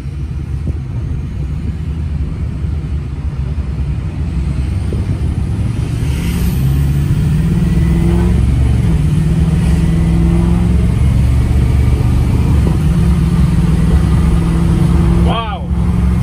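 A lifted one-ton heavy-duty pickup truck with a 5-speed automatic transmission rumbles loudly and continuously, its engine rising in pitch as it revs, with a voice speaking over it near the end.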